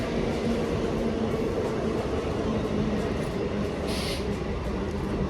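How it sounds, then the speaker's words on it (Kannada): A train at a railway station rolls past with a loud, continuous rumble and rattle close by, a steady broadband roar that holds throughout with a brief high hiss near the end. "ಟ್ರೈನ್ ಬಂತು ಟ್ರೈನ್ ಬಂತು"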